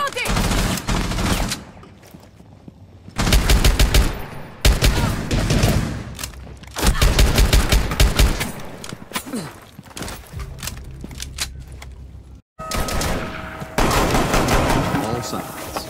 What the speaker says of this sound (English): Gunshots rang out.